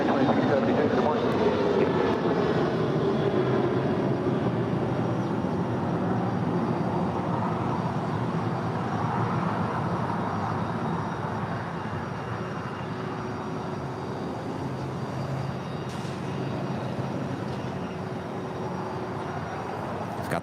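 Hawaiian Airlines A330 jet taking off from LAX, a broad steady roar of jet engines that fills the whole stretch and slowly eases off, heard from a distance at the airport.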